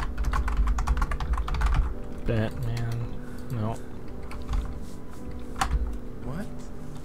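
Rapid clatter of keys on a computer keyboard, fast irregular bursts of typing while a guessing game is played, with people talking over the tapping throughout.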